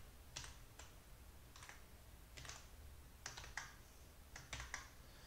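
Scattered keystrokes on a computer keyboard while a line of PyTorch deep learning code is entered, soft close clicks arriving in small irregular clusters with pauses between, quiet and without any talking.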